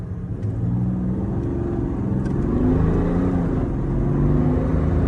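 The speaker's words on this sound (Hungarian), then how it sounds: "Ez a hang, ez a sor 6-os hang." BMW F10 sedan's straight-six engine pulling hard at full throttle, a loud rising rumble with climbing engine tone heard from inside the car.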